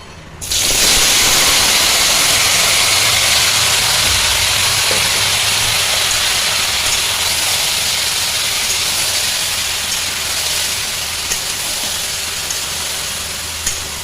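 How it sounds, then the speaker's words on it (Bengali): Vegetables tipped into a hot pan with small mourala fish set off a sudden loud sizzle that holds as a dense, steady hiss for many seconds, easing slightly toward the end, with no talk. "এবার আমি সবজিগুলো সব ঢেলে দেবো।"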